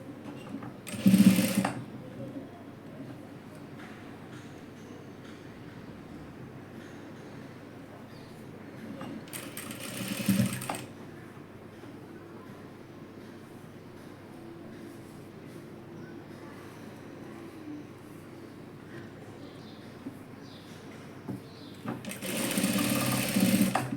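A sewing machine runs nearly nonstop stitching leftover fabric into a dress, a close, even mechanical whir broken by brief louder bursts of handling noise near the start, middle and end.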